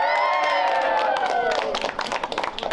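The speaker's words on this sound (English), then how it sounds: "One more big cheer and congratulations to all you winners." A school crowd cheering and clapping for award winners, a sustained whooping cheer that breaks into dense applause, heard loud and close.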